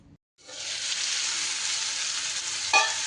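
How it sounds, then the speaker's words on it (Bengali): Snake gourd fries in a pan, a bright continuous sizzle that starts suddenly after a short silence, holds steady near the mic and gets one brief louder burst near the end. "এদিকে চিচিঙ্গেটা আমার কিন্তু বেশ ভালোই অনেকটাই ভাজা ভাজা হয়ে গেছে"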